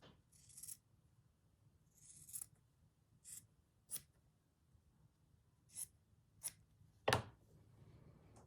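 Scissors snip paper and fabric pieces while a stitchery journal cover is assembled, with a leaf motif being fussy cut; several short, crisp, separate cuts sound close and quiet, with no talk.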